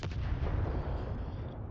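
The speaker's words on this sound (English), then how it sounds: "Another explosion interrupts the sergeant's words." A heavy explosion in the Warhammer 40k: Rogue Trader video game, a loud booming blast with a deep rumbling low end that rolls on and slowly fades over under two seconds, with no voices over it.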